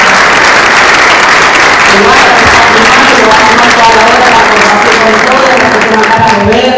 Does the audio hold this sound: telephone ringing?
no